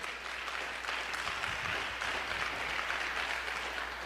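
Steady applause from a church congregation during a worship service, a dense, even wash of many hands clapping that fills the room, with faint voices beneath it.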